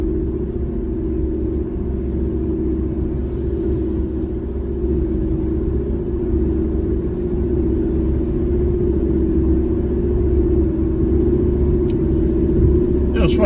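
A low, steady engine rumble drones throughout from inside or near a car, with a voice speaking over it and a short clatter at the end.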